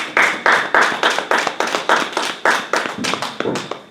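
A church congregation claps in a steady rhythmic beat, roughly four claps per second, loud and close, with no voices over it.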